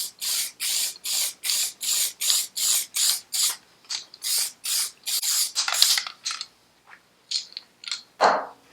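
Aerosol can of etch primer sprayed onto a bare metal Honda CB550 motorcycle panel, a dozen or more short hissing bursts in steady rhythm, close and loud, ending with a few shorter scattered sprays.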